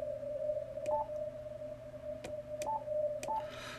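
A steady CW Morse tone rings through an audio peak filter with a manual notch filter set just below the sidetone, holding a constant pitch while brief clicks and bursts of static break over it.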